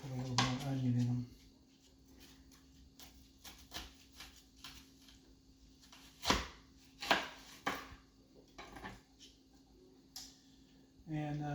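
A Victorinox knife chops onion on a board in a home kitchen, giving scattered sharp knocks, some single and some in quick pairs, close and moderate in volume, with a voice speaking briefly at the start and end.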